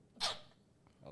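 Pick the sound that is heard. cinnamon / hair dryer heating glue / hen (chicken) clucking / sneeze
sneeze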